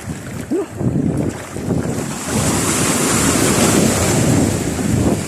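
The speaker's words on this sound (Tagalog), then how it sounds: "May malaking alon na naman." Big ocean waves churn and crash around a fishing boat in a continuous roar with heavy wind buffeting the microphone, building and staying loud throughout.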